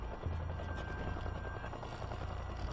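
A helicopter takes off at an airfield during the 1972 Munich Olympics hostage crisis, its steady low rotor drone and engine whine continuous and fairly loud throughout with no voices.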